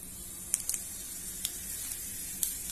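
Steady hiss and crackle of cumin seeds sizzling in hot ghee in a tempering pan, with a few sharper pops scattered through, close up and continuous.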